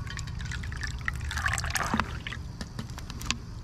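Water mixed with Propel and leftover sweet tea drips and pours in a steady wet trickle, with scattered splashy drops over low background rumble.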